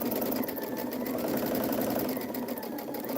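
A sewing machine runs steadily while chain piecing quilt pieces, a continuous close mechanical whir with a fast stitching rhythm and no pauses.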